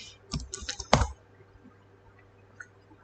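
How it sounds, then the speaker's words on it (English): A short flurry of keystrokes on a computer keyboard, typing a terminal command in Termux on Linux, clicks close and quiet for about a second before the room falls almost silent. "And you type Figlet my ASCII art."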